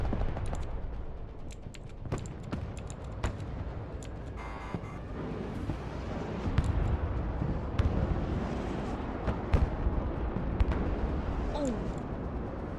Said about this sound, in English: run right into the cluster on artillery barrage